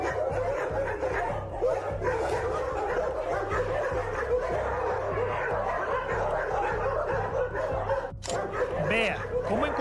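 Many dogs at a dog sanctuary bark and yip in a dense, continuous chorus close by, with human voices mixed in.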